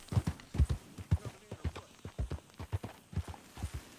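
Hooves clip-clop steadily in Red Dead Redemption 2 as a horse walks at an even, unhurried pace, the hoofbeats close and distinct throughout, with no one talking over them.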